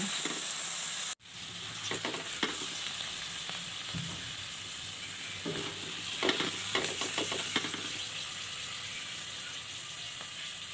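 Mushrooms sautéing in a pan while pancit is cooked, giving a steady broadband sizzle with scattered scraping and clicking of a utensil, and a brief dropout near the start.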